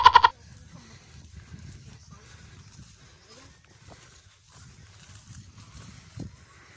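A goat on hillside farmland in Sitio Lubas, Binalonan, Pangasinan gives one short, fairly close bleat at the very start, then quiet outdoor ambience with faint rustling and low murmurs follows.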